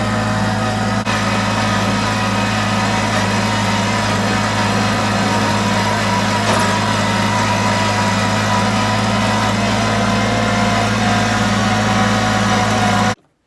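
Kubota tractor engine running while plowing, a steady droning hum with strong low harmonics and constant vibration, loud and close, continuing unchanged until it cuts off abruptly at the end.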